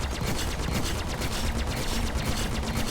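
Rapid, dense bursts of ship cannon fire in Star Citizen, a loud, continuous stream of repeated shots with no pauses and no talk, running the whole time.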